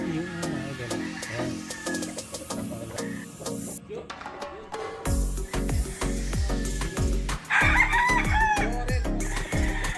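Brown Gray gamefowl broodcock rooster at a native game farm, crowing several times in loud drawn-out calls with clucking between, close and clear, with other birds and faint farm noise around it.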